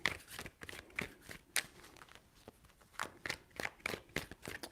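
Tarot cards being shuffled by hand, with soft, quick riffling and tapping bursts in an irregular rhythm, close and quiet.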